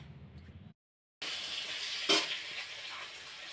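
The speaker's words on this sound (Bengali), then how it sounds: "আলুগুলো ভাজা করে নিচ্ছি" Potatoes frying in oil for a Bengali kuchia fish dish give a steady, close hiss and sizzle that starts after a brief silence and carries on unbroken with one brighter crackle partway through.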